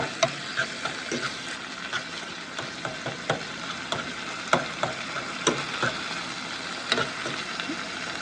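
Steady sizzling of beef frying in a pan with a little soy sauce for street tacos, a constant crackle with scattered small pops and faint ticks throughout, no voices.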